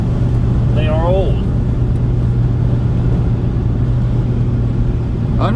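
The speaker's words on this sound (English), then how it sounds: "And now we're running down the road at about 55 miles an hour." A 1985 Mercedes 300SD cruising down the road at about 55 mph, heard from inside the cabin as a steady low drone and road rumble, with a brief voice early on.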